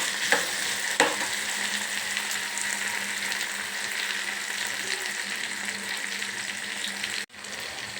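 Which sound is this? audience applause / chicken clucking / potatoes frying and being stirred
potatoes frying and being stirred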